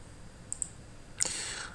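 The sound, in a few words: mouse clicks while right-clicking in Visual Studio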